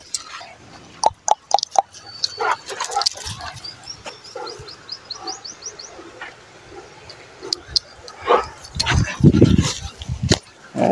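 A small puppy gives short yelps and whimpers in scattered bursts, close by, amid outdoor background noise with people talking nearby.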